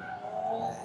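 Drift cars at a sold-out NASCAR speedway skidding through a continuous, loud tire squeal with engine roar underneath, steady and close for under a second.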